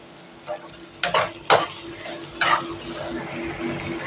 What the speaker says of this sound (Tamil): ரெண்டு பச்சை மிளகா போட்டுக்கலாம் கட் பண்ணி வச்ச பச்சை மிளகா கூடவே இந்த வெங்காயத்தையும் போட்டுடலாம் வெங்காயம் ஃப்ரை ஆகட்டும் நல்லா